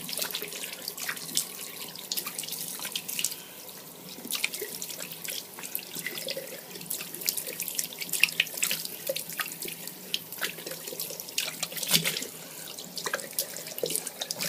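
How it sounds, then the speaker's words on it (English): A bathroom tap runs water into a sink while a face is washed after shaving, with a continuous splashing stream broken by irregular drips and the splatter of hands scooping water. No one speaks. "just a nice quick wash"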